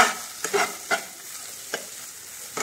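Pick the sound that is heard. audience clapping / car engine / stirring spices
stirring spices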